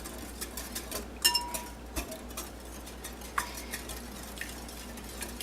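Custard mixture being stirred in a glass bowl: a steady series of soft taps, clinks and scrapes of a utensil against glass, fairly quiet and close, with no talking.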